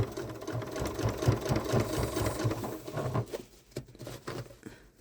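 Janome sewing machine stitching through a thick boxed corner of a fabric bag, a quiet rapid patter of needle strokes that slows and falters as the layers get tough, close up and faint.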